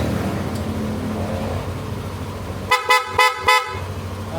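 Four short, sharp horn toots in quick succession from a Yamaha NMAX V3 scooter set up as a police bike, loud and close, following a stretch of low background rumble.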